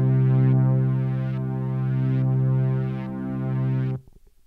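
A dark ambient synth pad built in Reason holds a steady, dense drone with a slow swooshing filter movement, sounding loud and alone for about four seconds before cutting off abruptly.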